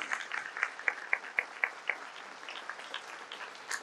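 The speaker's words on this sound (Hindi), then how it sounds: "जोरदार ताली, जोरदार।" A congregation at an Easter prayer service claps for several seconds, with rhythmic, evenly spaced claps standing out early and then fading into looser, scattered applause.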